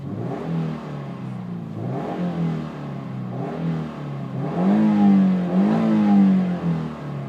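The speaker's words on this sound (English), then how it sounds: "I want you to hear this boxer engine." A 2015 Subaru Impreza's boxer engine revving up repeatedly, four or so rising and falling pulls with a throaty low note, fairly close and growing louder toward the end.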